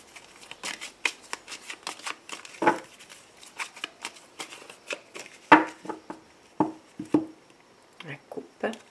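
Tarot de Marseille cards are shuffled by hand in a quick series of soft, crisp riffles and slaps, close and fairly quiet, with brief pauses between handfuls.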